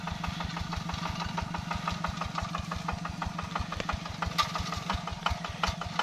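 The engine of a G600 tractor runs at a steady idle-like pace, thudding in a fast, even rhythm of low pulses, fairly faint and heard alone while the machine works its way into a steep field.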